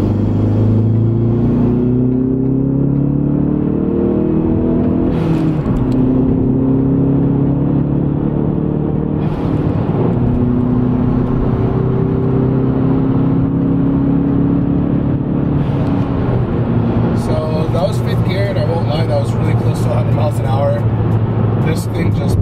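A car fitted with an AEM intake accelerates hard in third gear from a 2,000 rpm roll at 30 mph. The engine drone climbs steadily and loudly throughout, a rising rumble with a whirring edge.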